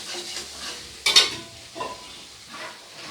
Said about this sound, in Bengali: জলটা দেওয়ার আগে একবার খুব ভালো করে এইভাবে নেড়ে দিতে হবে